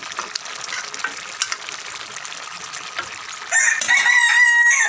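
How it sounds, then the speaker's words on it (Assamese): A rooster crows loudly and chickens call just outside a home kitchen while a cauliflower, green pea and potato masala fries and is stirred, the steady sizzle underneath and the crowing rising over it in the last second or so. "আমাৰ ইয়াত ভিডিঅ' কৰিলে একদম পূৰা মুৰ্গীয়ে দাগ দি থাকে, শুনিছেই নিশ্চয়।"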